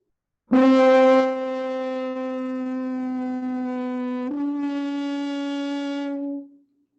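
A single sustained French horn note is held, then abruptly shifts to a muffled, buzzy stopped tone as the hand closes the bell, for the rest of the note before fading out.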